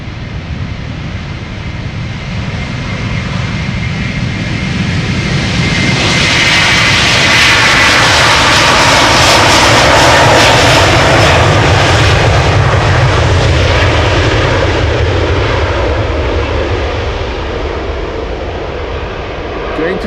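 Delta Airlines jet airliner departing north from Amsterdam Schiphol, a loud roaring engine blast that swells to a peak around the middle and slowly fades, heard up close.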